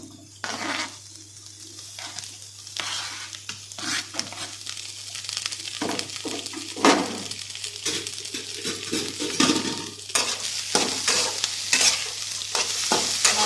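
Snake gourd pieces, deseeded and peeled, fry in hot oil in a pan for a tomato curry, with steady sizzling broken by frequent scraping stirs of a spatula against the pan, close and fairly quiet.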